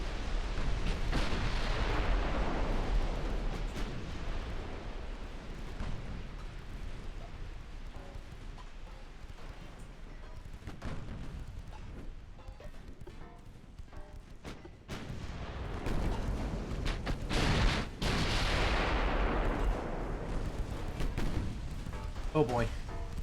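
Naval battle in Ultimate Admiral: Dreadnought, with torpedo hits and gunfire rumbling as heavy booms and dense crackling blasts, loud and continuous, swelling near the middle and end under some talking.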